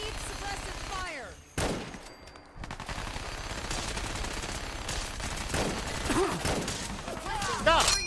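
Bursts of gunfire from the video game Fallout 4, with rapid shots and heavier thumps layered under game voices and clashing effects throughout, a dense and fairly loud barrage.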